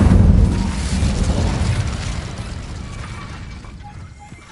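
Incendio fire spell cast in Hogwarts Legacy, a loud burst of boom and crackle that opens strongly, then fades over a few seconds into a softer roaring tail.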